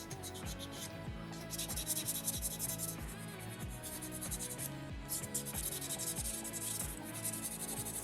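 Sandpaper is rubbed back and forth over a small soapstone bear carving in a steady, close scratchy rhythm with no talking.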